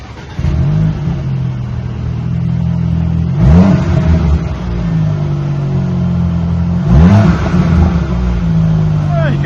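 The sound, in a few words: 2019 Audi Q5 engine revving with rear muffler deleted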